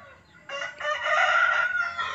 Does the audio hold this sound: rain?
no